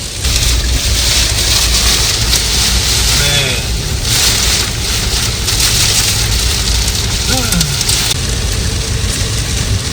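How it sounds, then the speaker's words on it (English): Hail pelting a Porsche 911 GTS T-Hybrid on a hot day, a dense, steady rattling patter across the car's surfaces, loud and continuous, with a voice speaking briefly over it. "In the middle of a 90-degree day, it turns 70 degrees and hail?"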